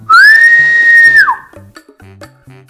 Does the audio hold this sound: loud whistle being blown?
yes